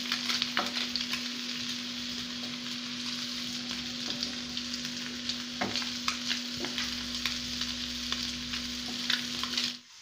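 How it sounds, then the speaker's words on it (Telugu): Fish frying slowly in butter in a pan, a steady continuous sizzle with occasional sharper crackles and pops, close and alone with no talking. "చూడండి ఎంత చక్కగా ఫ్రై అయిపోయావు ఫిష్"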